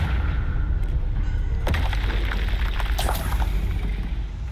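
A Confringo fire-blast spell bursts in Hogwarts Legacy, a sharp loud boom around mid-clip followed by a second crackling blast over a steady roaring magical background.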